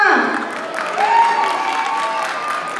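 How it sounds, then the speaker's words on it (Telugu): An audience applauds after a dance performance at an Ugadi and Sri Rama Navami cultural celebration, a dense wash of clapping running throughout with a voice and some tonal sound over it. "give them a very big round of applause"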